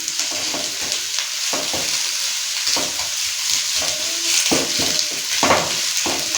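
Potato samosa filling with fresh coriander and green chili is stirred in a hot pan, a close sizzle broken by repeated scraping strokes and clacks of the spoon against the metal, with no voices.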